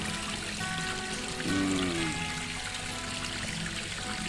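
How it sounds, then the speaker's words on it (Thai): Water spills over rocks at Pa Tabaek, a small waterfall fed by a natural stream in a hillside orchard, giving a soft, continuous trickling wash at low volume with no voices. "อันนี้ ผาน้ำไหลลงมาสวยงาม"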